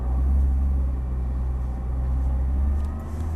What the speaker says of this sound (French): tu peux lâcher les freins et la voiture va tout simplement partir